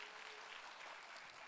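An audience applauding at a sales lecture, a dense, even wash of clapping heard from a distance, faint and steady for a moment, with no voices over it.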